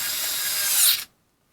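A Denali by SKIL 4V cordless screwdriver drives against a torque meter socket, a close, loud ratcheting whir that strains for about a second, then stops abruptly into near silence.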